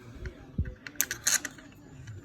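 A bolt is threaded by hand into the motor mount of a 2020 Giant Reign E+1 Pro e-bike with a Yamaha PW-X motor, giving a few faint, close metallic clicks and scrapes with quiet gaps between.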